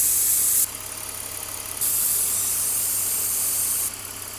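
A car engine idles with a low, steady hum while brake cleaner is sprayed to hunt for an exhaust or vacuum leak. Two loud hissing spray bursts come up close, the second one longer.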